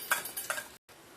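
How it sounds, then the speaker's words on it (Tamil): Urad dal, chana dal and dried chili tempering in coconut oil for a South Indian buttermilk kootu, giving a brief sizzle with a couple of stirring scrapes, then a short pause before a quieter background resumes; no talking. "உளுத்தம்பருப்பு, கடலைப்பருப்பு, மிளகா, தேங்காய் எண்ணெயில் நான் இப்போ தாளிக்கிறதுக்கு போட்டுருக்கேன்."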